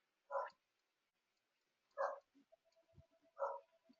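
Three separate barks from a dog indoors, spaced over about three seconds, with quiet clicks and small knocks between them and no voices.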